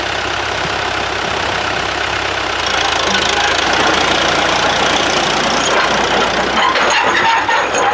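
An old farm tractor engine runs after a cold start, a steady close rough knocking idle with a broad mechanical clatter throughout.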